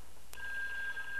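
Telephone bell on a rebuilt 1A2 key system rings as an incoming line comes in, a sharp onset followed by a steady, sustained ringing tone that carries on alone at moderate level.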